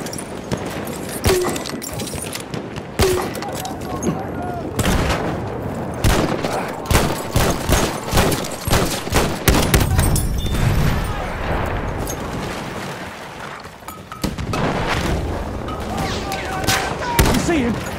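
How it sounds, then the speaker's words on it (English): Sustained machine gun bursts and scattered gunfire fill a busy Battlefield 1 Team Deathmatch battle on the Sinai desert map, with rapid overlapping shots, loud and close, and soldiers' voices shouting over the din. "Enemy machine gun!"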